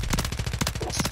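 Rapid sustained SMG fire from a SOA Subverter in a video game, a fast, steady stream of sharp shots filling the moment at close range with no pauses.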